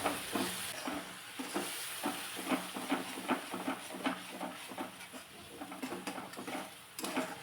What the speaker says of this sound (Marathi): आता याचा कच्चा स्मेल जाईपर्यंत हे चांगलं परतून घ्यायचं आहे